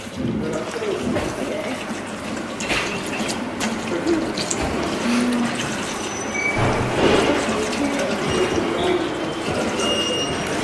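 Water runs steadily from a tap at the Roman Baths, a continuous splashing hiss over echoing ambient noise, with people talking nearby and occasional bird calls.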